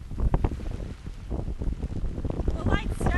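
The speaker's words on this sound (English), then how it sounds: "There are still wind gusts coming through this area" Hurricane Dorian wind gusts in Georgetown during a rainy live report, heard as steady, roaring buffeting against the microphone that swells and fades over a few seconds.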